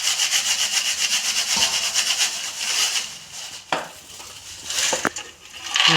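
Roasted peanuts, freshly dry-roasted at home, are sifted in a sieve, giving a continuous rhythmic scraping and rustling of nuts against the mesh, loud and close, with a few sharper knocks near the end.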